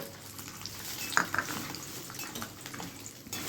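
Rotli flatbread fries in a small amount of oil with a steady low sizzle, broken by a few light clinks of a utensil against the pan.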